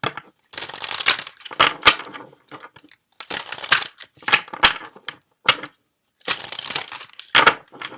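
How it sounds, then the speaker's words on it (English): Oracle cards riffle and flap in several quick shuffling bursts separated by short pauses, close and crisp. "I just love how these shuffle"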